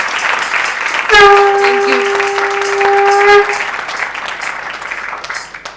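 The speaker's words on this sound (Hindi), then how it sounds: "एक बार फिर तालियां।" An audience at a satsang applauds in a dense, steady patter that holds for several seconds and then thins out. A voice briefly rings out over the clapping.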